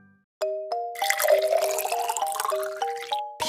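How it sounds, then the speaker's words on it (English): A Fisher-Price Laugh & Learn Smart Stages toy teapot plays its pouring effect. A short series of bright electronic chime notes sits over a bubbling, trickling liquid sound, close and clear. "Can you pour some tea?"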